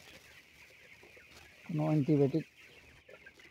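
Broiler chickens on a poultry farm, suffering from colds, let out a loud close burst of clucking lasting under a second, while someone talks quietly before and after amid faint barn background noise.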